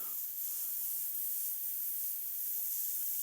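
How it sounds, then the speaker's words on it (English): An airbrush sprays paint in a steady, even hiss that holds unbroken throughout, moved randomly over an underpainting texture with the trigger held open rather than worked. "move the airbrush around. I'm not working the action on the airbrush trigger."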